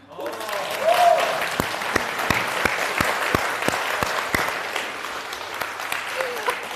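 Applause rises from the audience at a Deyunshe xiangsheng comedy stage performance, a broad wash of clapping punctuated by sharp, evenly spaced individual claps close by.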